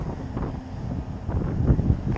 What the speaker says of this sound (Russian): Ветер, конечно, жестко усилился, вообще невозможно ловить.